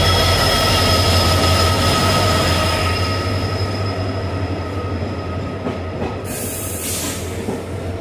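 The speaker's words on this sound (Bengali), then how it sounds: "Diesel locomotive." The Poorna Express, hauled by a diesel locomotive, departs Tirur railway station. A continuous heavy rumble of engine and rolling wheels is heard close by, with a steady drone that slowly eases. A brief high squeal or hiss comes near the end.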